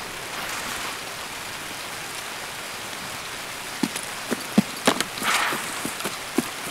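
Steady rain hisses throughout in the Escape From Tarkov game world, with scattered closer thuds and clicks, likely footsteps and movement, over the last few seconds.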